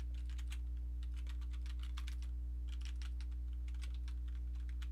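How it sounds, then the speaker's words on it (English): Rapid, close clicking of computer keyboard keys during a crossword solve, in bursts of fast typing separated by short pauses, over a steady low electrical hum. "I'm going to go across the keyboard real quick."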